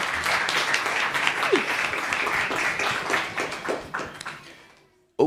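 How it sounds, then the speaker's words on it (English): Audience applause at a town council meeting, a full, continuous round of clapping that holds steady before tapering off and dying away to near silence at the end. "Can we give Christy one more round of applause?"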